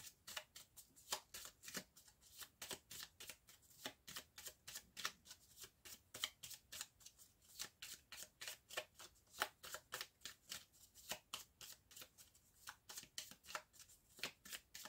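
Oracle stone cards are shuffled by hand for a divination reading, a quiet, close run of rapid, evenly spaced riffling flicks repeating without pause.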